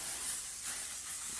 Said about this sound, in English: Last but certainly not least, a little bit of L'Oreal Infallible 3-second spray.